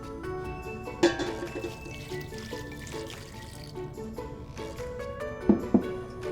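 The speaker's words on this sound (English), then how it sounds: "Now to this we're going to add just a bit of broth." Broth poured into a pot of softening vegetables and garlic for a plant-based bean Florentine soup, a quiet steady liquid pour with a few soft clinks near the start and end.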